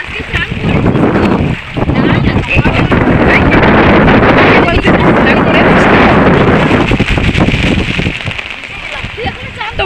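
Heavy rain driven by wind pours down outdoors, a loud, dense roar with gusts buffeting the microphone nearly the whole way through.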